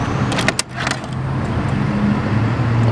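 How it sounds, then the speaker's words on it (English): A 2003 Honda Goldwing GL1800 trike idling after start-up, a steady low engine rumble with brief higher rattles near the start, close and continuous throughout. "I'm gonna go ahead and start it up."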